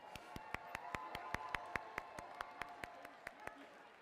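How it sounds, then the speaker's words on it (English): Sparse, evenly spaced handclaps ring out in a steady rhythm, close and crisp, like a single person or small group clapping, at a FIRST robotics competition event in Glen Allen, Virginia. "Give yourselves a round of applause."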